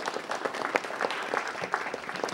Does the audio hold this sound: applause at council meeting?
yes